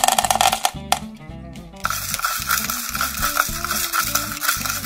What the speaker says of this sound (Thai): เอาละเรามาเริ่มผัดขี้เมากันเลย ใส่พริกขี้หนูลงไป ตามด้วยพริกไทยเม็ด